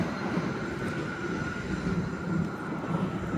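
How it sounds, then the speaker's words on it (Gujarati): A London Underground Jubilee line train runs past, a continuous low rumbling roar at moderate distance with a faint steady whine above it, unbroken for the few seconds heard. "જો ટ્રેન જાય છે જુબલી લાઈન"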